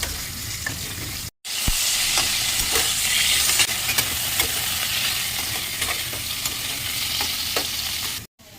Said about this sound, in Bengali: আলুটা একটু লাল লাল করে ভেজে নেবো